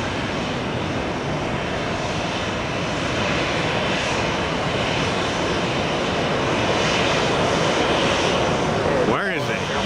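A Boeing 737 sits on an airport runway with its jet engines running, a steady, loud roar that holds throughout.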